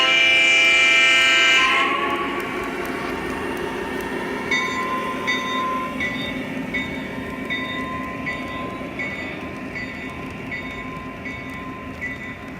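A Lionel Rio Grande GP-9 model train locomotive runs slowly, opening with a loud horn blast and then a steady rolling rumble with faint clicking rhythm beneath it.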